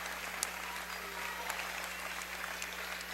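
Steady applause from a crowd at a boys' 7th grade basketball championship game in a gym, a continuous even patter of clapping heard from a distance with no voices over it.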